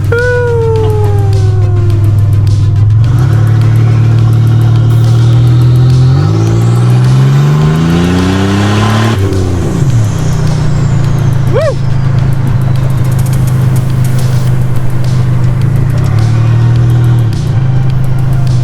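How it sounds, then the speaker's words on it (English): Nissan 300ZX with no exhaust fitted, its turbo spooling and winding down as the engine revs rise and fall, loud and close, with whooshing turbo whistles over a heavy engine drone. "the best part about not having an exhaust is that turbo winds down"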